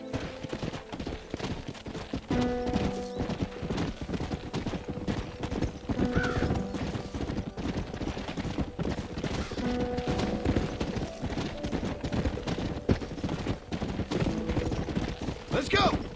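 Video game horse galloping in rapid clip-clop hoofbeats that run nearly continuously alongside game music and effects, with people talking over the action throughout.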